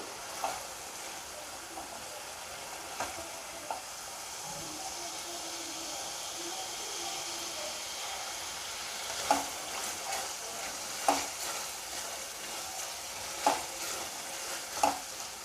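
Dried prawn curry simmering in a pan on the stove while its oil separates, giving a steady low sizzle and hiss with scattered sharp pops and taps toward the end.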